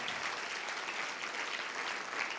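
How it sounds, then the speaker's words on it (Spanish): Church congregation applauding the Lord during a Spanish-language worship sermon, a steady even wash of clapping held throughout at moderate level, with no speech over it. "Deme un aplauso al Señor por esta palabra"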